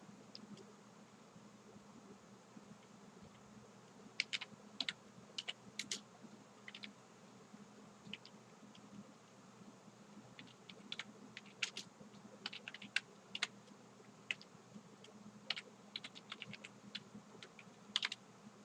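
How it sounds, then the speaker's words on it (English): Soft, distant clicks of a computer keyboard as someone enters an address list for a Word mail merge, irregular runs of keystrokes over a steady background hiss. "So this is how we type the address list."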